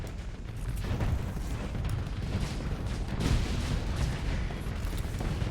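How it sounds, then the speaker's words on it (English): Loud, continuous barrage of missiles firing during a Starsector space battle, booming launches and impacts blending into a heavy rumbling roar. "we have a lot of missiles firing here"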